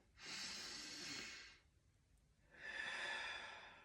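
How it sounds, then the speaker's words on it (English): Slow, calm meditation breathing: one long inhale followed after a short pause by a long exhale, each a soft, airy rush close to the microphone, with no talking. "Inhale, exhale."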